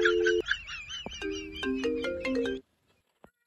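A melodic phone ringtone plays loudly and clearly for about two and a half seconds, then cuts off into near silence with a faint click.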